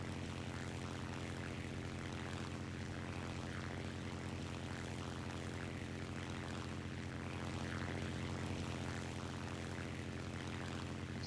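A German propeller aircraft engine in War Thunder, a continuous loud droning hum with a steady low tonal buzz that holds unchanged throughout, no talking.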